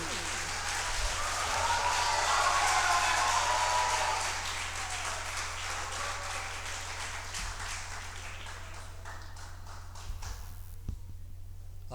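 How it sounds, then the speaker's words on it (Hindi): An audience at a certificate distribution ceremony gives a dense burst of applause that swells early, then gradually thins and fades into scattered claps against a low background hum. "जोरदार तालियां इनके लिए।"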